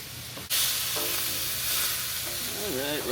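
Fried rice seasoned with Japanese barbecue sauce, salt, pepper and garlic mix sizzles loudly on a Blackstone griddle, a steady close hiss that starts abruptly and carries on with faint scraping.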